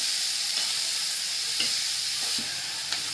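Finely chopped onion frying in a pan gives a steady, close sizzling hiss, with a few soft stirring knocks and scrapes and no voices.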